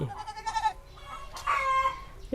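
Chickens and goats in a durian orchard make short bursts of nearby clucking and bleating calls across a couple of seconds, with small gaps between the calls and no speech over them.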